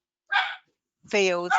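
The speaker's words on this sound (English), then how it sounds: "I apologize for my dog barking." A pet dog barks twice indoors at home, a short sharp yap followed a beat later by a longer, louder bark, both close and clear.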